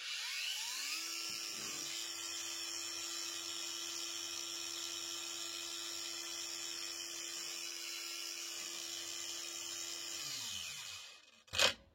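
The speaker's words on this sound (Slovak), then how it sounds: "Na tele uhlovej brúsky je cítiť jemné vibrácie" A Parkside Performance PWSAP 20 Li D4 20 V cordless angle grinder with an 8Ah battery whirs at a steady high-pitched whine for about ten seconds, then spins down, followed by a sharp click.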